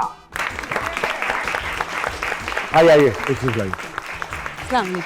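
Studio audience applause welcoming a guest onto a talk show set, a steady wash of clapping that runs under a host's voice, with other voices joining partway through.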